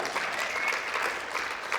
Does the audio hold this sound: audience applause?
yes